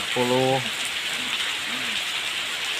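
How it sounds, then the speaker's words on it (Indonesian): Steady rain pours down as a constant, fairly loud hiss, with a brief voice at the start and fainter vocal sounds later on. "Susah hujan terus, mau aprak-aprakan, hujan terus"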